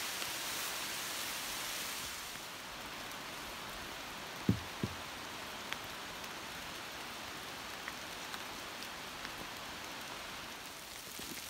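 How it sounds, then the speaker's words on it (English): Steady rain falls on a forest trail along the Sheltowee Trace, a continuous soft hiss with a few scattered drips and taps, and no voices. "it held off as long as it could, but here it comes. I think it's gonna rain intermittently"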